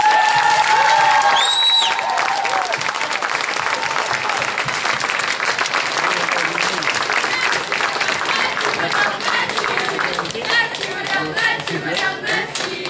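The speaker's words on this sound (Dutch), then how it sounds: "U mag haar ook een warm applaus geven voor Marianne." Warm audience applause for a choreographer at a benefit show, sustained dense clapping from a room of people that carries on throughout, with a brief voice and some cheering near the start.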